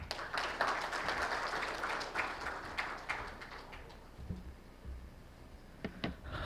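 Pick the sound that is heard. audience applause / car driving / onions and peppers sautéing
audience applause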